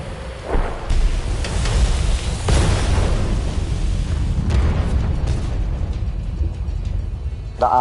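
Artillery shells explode in the World of Tanks video game, deep rumbling booms rolling in one after another with heavy low-end weight, loud and sustained, ending with a brief sharp tonal ping.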